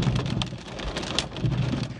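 Torrential rain with hail pours down hard in a steady dense roar, punctuated by sharper hits on surfaces, with no voices over it.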